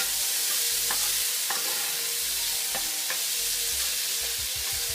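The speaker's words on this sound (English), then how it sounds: "Get everything nice and sauteed real quick." Vegetables sizzling and being stirred in a hot pan for a shrimp and crab bisque, a steady loud hiss of frying with occasional scraping clicks of the utensil.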